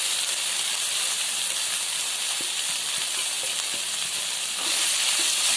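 Dry spices tipped into hot oil for a homemade paneer chana masala give a loud, steady hiss and sizzle that continues throughout and swells a little near the end.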